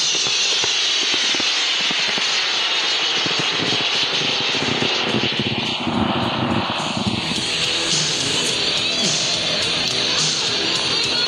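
An L1800 high-power rocket motor burns through a very slow launch ascent, giving a loud, steady broadband roar that lasts the whole stretch without a break.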